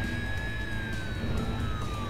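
A steady ambulance siren wail in the video game Driver San Francisco sounds over a low rumbling engine drone, moderately loud and continuous.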